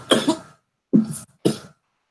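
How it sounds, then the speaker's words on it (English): A man coughs three times, close and fairly loud: a longer double cough, a pause, then two short single coughs, with no talk around them. "He is coughing right now."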